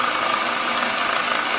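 A gear hobbing setup cuts a worm wheel for a DIY dividing head, giving a steady, loud mechanical drone that runs unbroken throughout.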